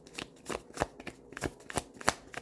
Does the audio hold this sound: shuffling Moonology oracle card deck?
yes